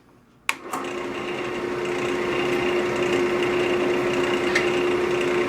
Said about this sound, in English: So I've got this lathe on low speed already, so when I turn it on, we'll see what it does.